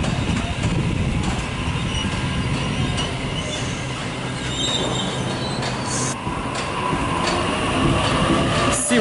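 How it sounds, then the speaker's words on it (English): A Sydney Series 1 Waratah electric train at a suburban platform on the Hornsby line, a loud, steady rumble of wheels and motors with faint squealing throughout, close by. "We have a Series 1 Waratah train arriving into platform number 3."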